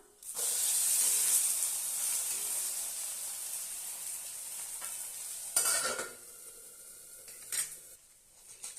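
Moong dal and ragi dosa batter sizzles on a hot pan after being flipped. A loud, steady frying hiss gradually eases, broken by a couple of brief scraping bursts near the end.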